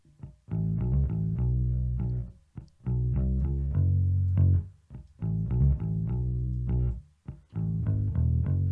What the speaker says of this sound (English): So that's the sound of just his bass.